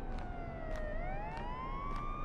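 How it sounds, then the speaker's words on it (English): Sirens wail outside in the horror video game Homeless, a sustained rising and falling tone heard from a distance with no talk over it. "There's sirens out there. Big sirens."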